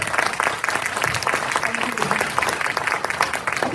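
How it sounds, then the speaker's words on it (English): An audience applauds with a steady wash of clapping that holds for the whole stretch, fairly close, with a voice faintly present beneath it. "Don't you think they deserve a big round of applause?"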